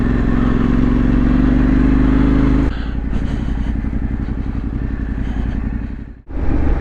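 A trail motorcycle on a moorland green lane runs steadily, then drops to a lumpy, clattering lower-revving engine note with a brief cut near the end, close and without talk.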